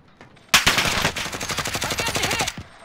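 Rapid automatic gunfire in a multiplayer shooter video game battle, a loud, dense burst of rattling shots lasting about two seconds, abruptly starting and stopping, close and alone without talk.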